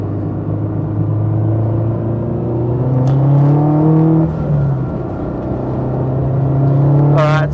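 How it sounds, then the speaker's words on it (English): Turbocharged 350 hp Toyota 86 accelerating hard in a short drag race at Wakefield Park, heard from inside the car: the engine note climbs through the gears, with clear shifts and a brief whoosh or whistle near the end. "Cheeky little drag race."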